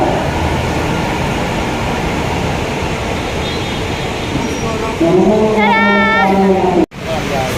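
Steady loud rumble of a passing MRT metro train, then a voice talks over it near the end before a sudden cutoff.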